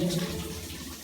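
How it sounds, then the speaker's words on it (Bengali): Steady running water from a tap, a continuous hiss and splash that stays even throughout the short moment, close by with no talking. "খালি ট্যাপ ছেড়ে দিচ্ছে পানি"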